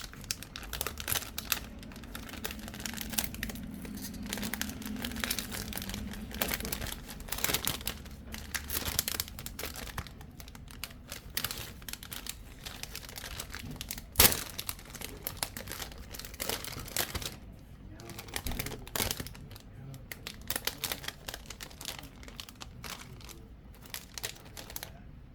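Plastic packaging crinkles and rustles up close as craft flowers are pulled free, a continuous run of crackles, tears and crunches with occasional sharper snaps and no talking.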